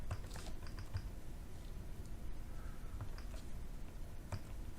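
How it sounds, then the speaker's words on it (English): Keys tapped on a ZX Spectrum home computer keyboard, a handful of soft, irregular clicks spaced across a few seconds over a steady low hum, close and fairly quiet. "We are now into the main screen, and we can type something."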